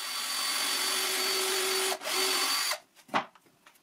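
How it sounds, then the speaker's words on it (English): A power drill whines steadily as it bores guide holes into a wooden board for a simple frame, with a brief dip mid-way before the motor stops and a few soft handling knocks follow. "I keep drilling in the mark in the head of this piece."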